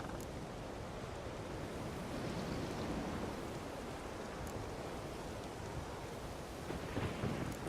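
A thunderstorm in The Witcher 3 rumbles as dense, steady wide noise like heavy rain and rolling thunder, loud and continuous throughout with no voices.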